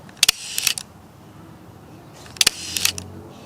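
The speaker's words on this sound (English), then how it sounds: "this shutter sound is kind of crazy" A Leica M8 camera shutter fires twice, each release a sharp cluster of quick mechanical clicks and whirs close up, with a short quiet gap between them.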